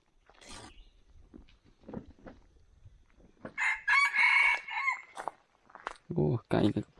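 A rooster crows loudly and close by, a long drawn-out call in the middle followed by clucking bursts, with quiet talk earlier on.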